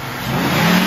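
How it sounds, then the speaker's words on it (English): A 2007 Ford Mustang GT with the 4.6L V8 and 106k miles revs up from a steady run, its engine note rising and swelling over under a second, close and alone. "Rev it up."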